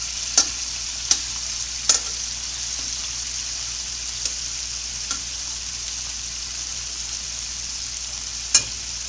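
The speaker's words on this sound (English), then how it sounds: "we're getting a nice sear going on each and every one of those little beauties." Chunks of beef for beef bourguignon sear in a hot pan with a continuous, even sizzle. A few sharp pops and spatters stand out, and no one speaks.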